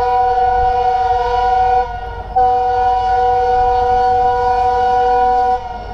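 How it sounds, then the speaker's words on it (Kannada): A goods train of about twenty wagons nears a level crossing and sounds a loud, sustained horn that breaks off briefly and resumes, with a low rumble beneath it. "ಗೂಡ್ಸ್ ಗಾಡಿ ಗುರು ಇದು, ಒಂದು 20 ಟ್ರೇಲಿ ಇದು ಇರ್ಬೋದು ಮೋಸ್ಟ್ ಪ್ರೊಬಬ್ಲಿ"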